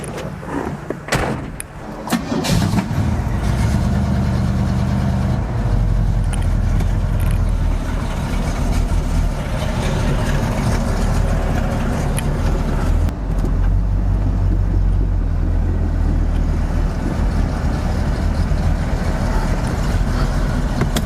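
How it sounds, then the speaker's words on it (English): A Pontiac Trans Am's engine idles and rumbles low and loud as the car is backed out of a garage at a dyno shop, after a door clunk at the start, a steady close drone throughout. "Let me move the Trans Am out of the way."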